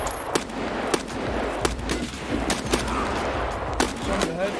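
Gunshots in Escape From Tarkov: several sharp single cracks at irregular intervals, some close and some more distant, over a steady background of ambient noise and low rumble, with no speech.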